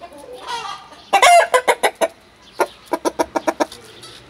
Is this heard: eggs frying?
no